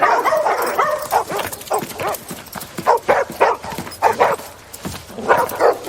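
Dogs barking excitedly indoors, a quick run of close, loud barks and yips that repeats in bursts across the clip, with no speech over them.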